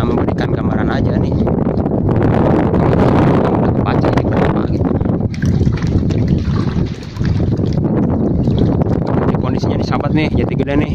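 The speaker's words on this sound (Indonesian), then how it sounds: "angin mulu nih" Steady wind roars over the microphone on a fishing raft out on the Jatigede reservoir in Indonesia. It is loud and continuous for the whole stretch, with a voice talking over it in places.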